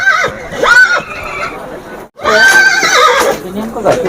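A loud, shrill mare's whinny rises and falls, followed by a second long neigh after a brief pause, with noisy voices around at the Yeola horse market.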